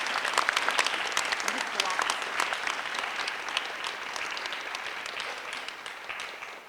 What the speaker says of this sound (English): let's please join me in giving a round of applause to all our supporters and our judges